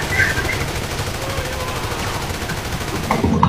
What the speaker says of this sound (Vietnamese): Phải bắn hết cả băng đạn cho tụi.